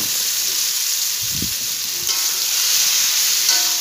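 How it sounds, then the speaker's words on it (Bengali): Fried potato and cauliflower pieces drop into a hot pan of oil, setting off a loud, close sizzle with a brief clatter as they land, then a steady frying hiss with no talk. "এখন আমি ভেজে রাখা আলু ফুলকপিটা দিয়ে দিব।"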